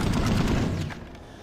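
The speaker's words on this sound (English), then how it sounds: "firing off the hip, let's see what kind of recoil pattern we're getting from close range" An assault rifle fires from the hip in Planetside 2, a close, loud rapid burst of gunshots that runs for about a second before tapering off, with no talking.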